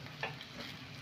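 A spoon stirs vegetable peels with grated coconut in a frying pan, a soft scraping stir over a steady close sizzle.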